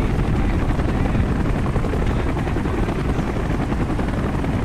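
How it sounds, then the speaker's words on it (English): A helicopter in the Call of Duty Black Ops video game roars with a dense, steady rotor and engine drone that stays loud and unchanging throughout, with no voices over it. "Entry from a helicopter."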